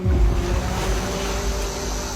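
Ocean waves wash around someone bathing in the sea off an island, a loud, close, continuous surf roar with a brief stronger surge at the start and faint wind noise.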